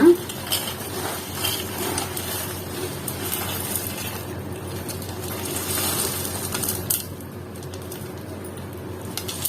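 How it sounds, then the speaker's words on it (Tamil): Fried boondi tipped all at once into sugar syrup for laddoo: soft wet rustling and sloshing with light metallic scrapes and clinks of a pan and spoon, close and fairly quiet, with no speech. "நான் இப்ப இதை நான் ஜீராக்குள்ள கொட்டிடுறேன் மொத்தமா."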